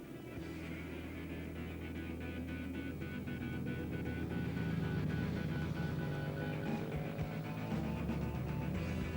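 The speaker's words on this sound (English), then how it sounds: "Ready for race 1, some of the latest V-twins, a 3-cylinder Triumph and a swag of super powerful" Racing motorcycles, including big V-twins, a three-cylinder Triumph and powerful four-cylinder bikes, drone steadily on a 1997 Oran Park circuit, a continuous engine roar heard from a distance with no clear individual passes.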